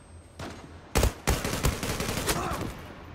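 Gunfire in the online shooter Zula during a team deathmatch, with sharp close shots and rapid bursts of automatic fire over continuous game noise.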